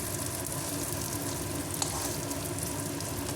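Brinjal masala curry cooking in a pan, a constant soft sizzle and bubbling heard up close and unbroken across the short stretch, with no voices.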